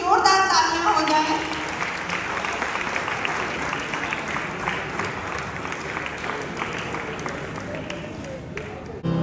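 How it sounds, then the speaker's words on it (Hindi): Sustained audience applause fills the hall at an Indian community charity music show in Ghana, steady and fairly loud from a sizeable crowd, with a brief voice near the start. "विदमन सोल के सभी मेंबर्स के लिए जोरदार तालियां हो जाए।"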